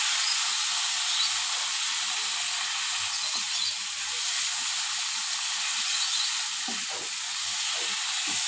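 Turmeric powder and salt frying in a little oil for an egg curry, a steady bright sizzle running throughout with a few soft scrapes and clicks of stirring underneath, close and continuous with no talk.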